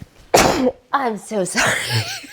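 A single sharp sneeze bursts out close to the microphone, followed by a person speaking briefly in a conversational indoor setting.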